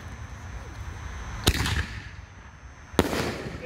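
Two Miracle Fireworks Ultimate Force canister color shells burst in sharp, loud booms about a second and a half apart, each followed by a crackling, rumbling tail.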